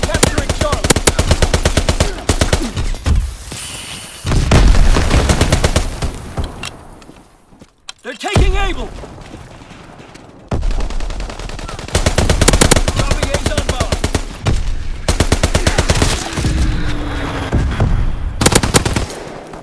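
Strafing-run gunfire in Call of Duty WWII, long loud bursts of rapid machine-gun fire with a brief lull midway, then continuous firing resuming, with occasional in-game voices underneath.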